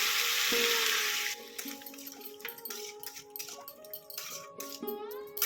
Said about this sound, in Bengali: জলের প্রয়োজন আমি একটু জল দিচ্ছি এর মধ্যে